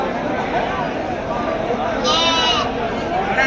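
Sheep bleat at a livestock market, including three- and five-month-old Bandur sheep, with a clear, fairly close bleat rising over a steady background of crowd noise and talk.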